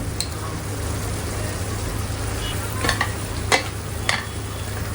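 Spices such as turmeric, coriander, cumin and garam masala fry in a pan with a steady sizzle, while a spoon scrapes through them in a few sharp strokes.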